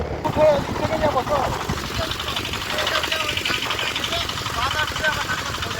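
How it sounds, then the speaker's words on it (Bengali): A motorcycle engine hums steadily while riding along a road, a low continuous drone under wind noise. A voice talks over the engine for much of the ride. "বাইক ঘুরিয়ে নিয়ে চললাম ভ্যান দাদার পিছনে"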